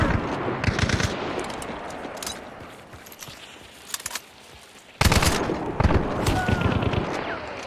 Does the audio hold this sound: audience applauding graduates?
no